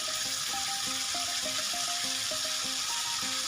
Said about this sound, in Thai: ผัดหมูเครื่องปรุงให้เข้ากัน ใส่ถั่วลงไป